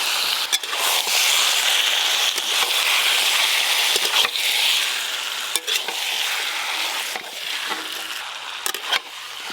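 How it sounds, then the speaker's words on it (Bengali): Chicken pieces frying and being stirred with chopped tomato, turmeric powder and salt, a steady close sizzle with occasional scraping knocks of the spoon against the pan, no talking. "টমেটো কুচি, হলুদ গুঁড়ো, স্বাদ মতো লবণ, কেটে ধুয়ে রাখা মাংস।"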